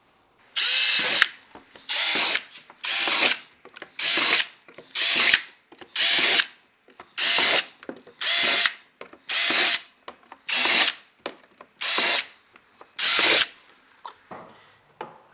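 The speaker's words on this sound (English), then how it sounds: "go around the hatch, pre-drill the rest of your mounting holes" A power drill pre-drills mounting holes around a kayak hatch in a dozen short bursts, each a second or so of loud whirring separated by brief pauses, in a steady repeating rhythm.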